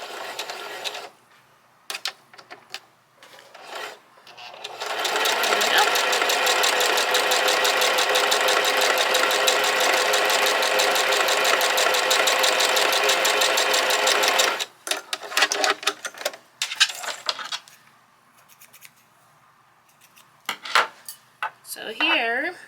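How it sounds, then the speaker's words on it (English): A Singer Heavy Duty sewing machine runs steadily for about ten seconds, close and alone, zigzagging an over-edge stitch along a fabric edge, with brief handling clicks and rustles before and after. "the goal is for the needle to zigzag and go over this edge to finish it"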